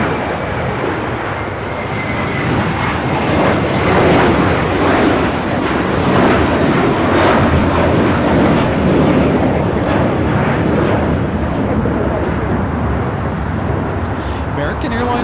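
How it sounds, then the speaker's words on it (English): A SkyWest airliner takes off from runway 25 right at LAX, its engines a broad steady roar building and then holding at a distance, with occasional voices over it. "Skywest 4916 on 25 right, clear for takeoff"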